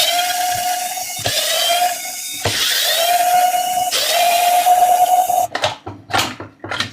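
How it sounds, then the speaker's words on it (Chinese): A power screwdriver takes the casing screws out of a 72-volt-output charger for a 60-volt electric bike battery. It gives four loud, close whining bursts, then several short rattling taps as the screws come free. "来，外壳螺丝全部拆掉。"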